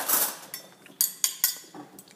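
Metal cutlery clatters and clinks in a kitchen, a busy rattle at first, then several sharp separate clinks spaced about a quarter second apart, fairly close with no voices.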